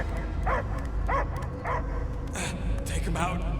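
A dog in Marvel's Guardians of the Galaxy gives a series of sharp, evenly spaced barks and yips, loud and close, set over a low droning game score.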